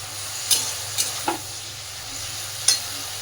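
Water lily stems fry in a pan with a soft, steady sizzle, broken by a few sharp clicks and scrapes of a stirring utensil.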